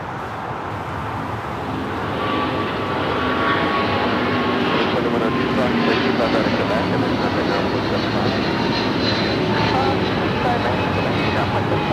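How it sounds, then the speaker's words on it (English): A United Airlines Boeing 777-200 bound for Newark takes off from runway 25 right at LAX, its engines a broad, loud roar that swells after the first couple of seconds and holds steady, with faint talk underneath. "This is United Airlines 2096 taking off to Newark on the 777-200."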